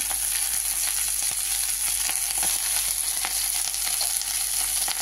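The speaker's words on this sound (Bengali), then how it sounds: "কোনো জল দেওয়া হবে না, এভাবে শুকনো ভাজা হবে" Leafy greens dry-fry with onion, garlic and chili and no added water, giving a continuous close sizzle with faint stirring scrapes throughout and no speech.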